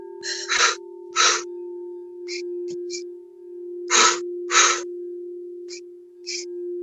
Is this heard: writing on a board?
no